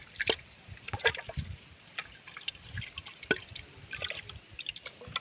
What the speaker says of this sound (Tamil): இது கூட தண்ணி சேர்த்து நல்லா கரைச்சி விட்டுறலாம்